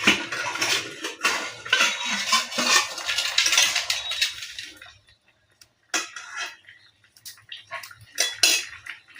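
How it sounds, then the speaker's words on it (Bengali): A lid comes off a pot of boiling ash gourd with loud metallic clattering, then a short quiet pause, followed by a few more close clinks and rattles. "এখন আমি ঢাকনাটা খুলে দেখব কতটুকু আমাদের সিদ্ধ হয়েছে"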